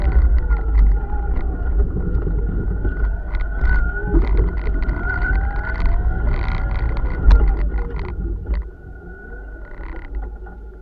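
A truck climbs an icy uphill driveway after freezing rain, its engine a steady close drone with tires briefly spinning, the sound easing off near the end.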